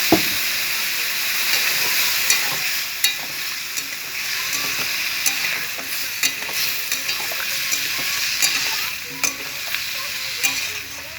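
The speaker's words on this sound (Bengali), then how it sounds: "তো আমি একটু জল দিয়ে দিলাম, মশলা দেওয়া জল।" Spiced water made with cumin and chili paste is poured into a hot pan, giving a loud, steady sizzle and hiss with scattered clicks of stirring throughout.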